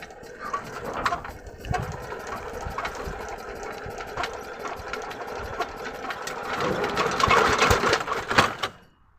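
A hand-held motor cultivator (hiller) engine that has stood unused for about a week, running with a fast, rattling mid-pitched buzz that holds steady, then revs up and cuts out near the end. Close and loud outdoors.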